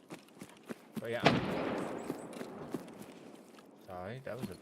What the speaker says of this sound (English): Explosion. I think it was probably a grenade.